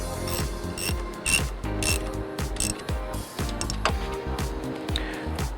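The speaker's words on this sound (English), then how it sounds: "We're going to go ahead and snug those down." Ratchet clicking steadily as brake caliper bolts are snugged down during an Aerospace brake kit install on an S197 Mustang, rapid repeated pawl clicks in short bursts, close and fairly loud, with no talking.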